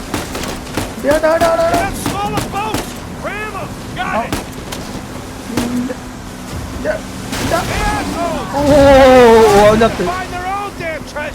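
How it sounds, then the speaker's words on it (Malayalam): Sharp bursts of gunfire in Uncharted 4: A Thief's End crack out at intervals over rushing water during a boat sequence, with a person talking throughout. "ചെക്കൻ വെടിവെക്കുന്നുണ്ട്"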